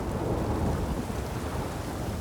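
Rain pours steadily with a deep rolling thunder rumble in the open-world game The Witcher 3, a dense, constant wash of sound with no speech.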